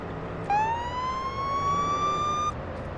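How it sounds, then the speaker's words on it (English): Police car siren in the Police Simulator patrol game, a single rising wail that starts abruptly, holds loud and close for about two seconds, then cuts off, over a steady low engine hum. "I like to do the sirens this time of an evening."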